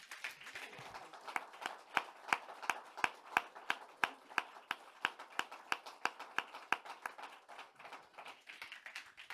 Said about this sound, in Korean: 우리 하나님께 영광의 박수를 드리기 원합니다.